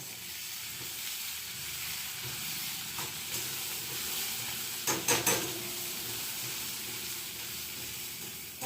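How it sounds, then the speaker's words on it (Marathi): Eggplant fries in hot oil in a home kitchen, a steady close sizzle and hiss running throughout, with a few brief clinks of stirring near the middle. "थोडे वांगे तेलामध्ये ना परतू देते."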